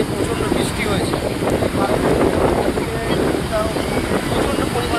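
Strong, high sea waves roll and surge continuously at Puri beach after heavy rain, a loud broad roar mixed with wind buffeting the microphone.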